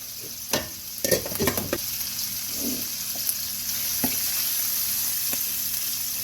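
Italian sausage sizzles steadily in a pan, with a few sharp scraping stirs and clatters early on over a continuous frying hiss, close and moderately loud, no one talking.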